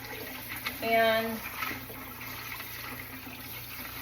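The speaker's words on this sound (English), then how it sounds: "So what I've done before is just rinse them all off" Food items are rinsed under a running kitchen tap, giving a steady, soft hiss of flowing water with a brief louder splash near the start and a voice speaking briefly over it.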